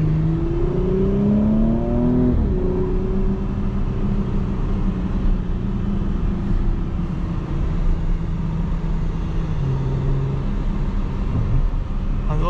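A 2020 Porsche Cayenne Coupe S exhaust in sport mode during a night drive in Dubai, engine revs climbing then settling into a steady low drone, with a brief shift near the start and a smaller rise later.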